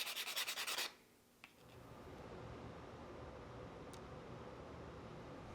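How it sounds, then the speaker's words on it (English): Small wooden pieces for a music box are hand-sanded, their ends rounded and tapered. A brief loud burst of scraping opens, then a steady soft rubbing hiss carries on alone. "I'll sand the ends to round them off and flatten them to a bit of a taper."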